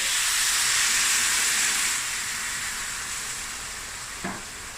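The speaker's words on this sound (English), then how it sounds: "now I'm going to add some water." Loud, steady sizzling hiss as water is added to a hot pan of chicken wings, easing off slightly after a couple of seconds, with a faint clink near the end.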